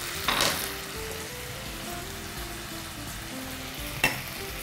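Ham and chopped red sweet pepper fry in a pan with a steady, close sizzle, and two brief louder bursts come as the food is stirred.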